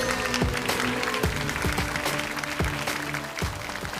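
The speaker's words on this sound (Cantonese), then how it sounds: "掌聲歡迎我哋超模應援團團長" Audience applause welcomes a guest presenter onstage at the finale of a Hong Kong pet model contest, a steady broadband wash of clapping with stage music or tones running underneath.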